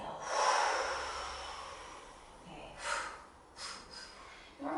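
A forceful exhale through the nose during a breathing exercise at a spiritual wellness workshop, a strong breathy rush near the start followed by quieter breaths and short snorts later, heard up close.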